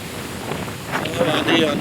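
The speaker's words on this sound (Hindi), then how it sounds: "ये पेड़ देखो, ये देखो, ये देखो, बहुत तेज की आंधी आई है।" A fierce windstorm thrashes roadside trees on the Nainital road, a loud, close rushing roar that swells in gusts, with some microphone buffeting and a faint voice partly buried under the wind.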